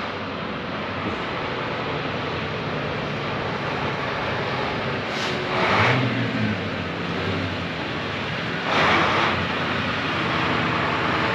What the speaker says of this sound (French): Le voilà, le camion.